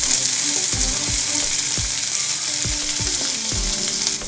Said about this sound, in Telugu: ఈ ఉల్లిపాయలు ట్రాన్స్పరెంట్ అయ్యే వరకు వేయించుకోవాలి.